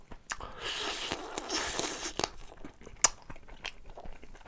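Crunchy bites and wet chewing of a marinated Korean side dish eaten with rice by hand in gloves, close and distinct, with sharp crunches and a loud snap near the middle over soft mouth sounds.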